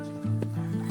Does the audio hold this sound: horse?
yes